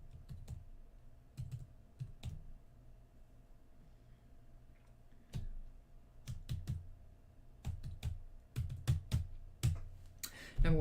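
Password being typed on a laptop keyboard, with scattered bursts of crisp key clicks, some single presses and some quick runs of several keys, close and fairly quiet amid near silence.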